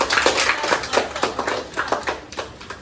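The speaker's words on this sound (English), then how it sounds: "Give her a clap." A classroom of pupils claps for a student, a brief burst of distinct hand claps in an uneven rhythm, close and fairly loud, with no talking over it.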